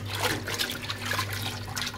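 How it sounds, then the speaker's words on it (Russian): Water runs and splashes steadily while lettuce is washed for a salad, a close, continuous trickle lasting about two seconds. "Уже третий раз воду меняю этому салатику."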